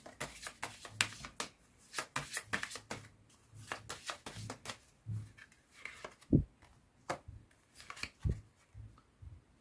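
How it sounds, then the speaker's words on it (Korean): Tarot cards being shuffled and drawn by hand, with irregular bursts of soft riffling and flicks, a few sharper taps, close and fairly quiet with no talk. "그렇다면 마지막으로 조언점 카드도 뽑아보도록 할게요."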